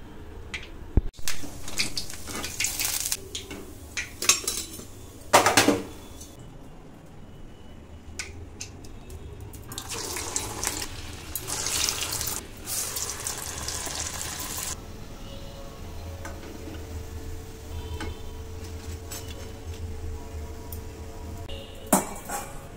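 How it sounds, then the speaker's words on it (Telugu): Boiled chickpeas tipped into a strainer in a home kitchen bring bursts of splashing, running water alongside clinks and knocks of metal utensils and pots, irregular and close, with quieter gaps between. "ఇలా ఒక స్ట్రైనర్లో వేసి వాటర్ని వేరు చేసేసి"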